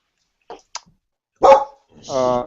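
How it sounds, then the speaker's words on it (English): A dog barks in the background of an online meeting, a few short yips and then two louder full barks, heard close with no talk over them. "you got a dog in the background"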